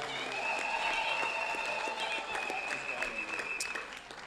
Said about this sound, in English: yes, let's give him a round of applause.